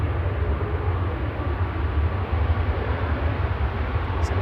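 A Ryanair Boeing 737 MAX 8 at Manchester Airport gives a steady, broad jet roar that holds at an even loudness throughout, with no voices over it.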